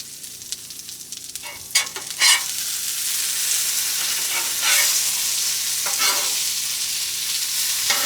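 Potatoes sizzle and fry on a griddle outdoors, a steady loud hiss with scraping and stirring clatters early on. No voices are heard.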